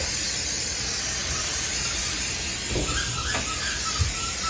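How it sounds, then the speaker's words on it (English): Cooking spray hissing onto a sheet pan of potatoes and vegetables, a steady close broadband spray with a few faint clicks and squeaks over it. "I'm going to go ahead and hit it with that cooking spray again"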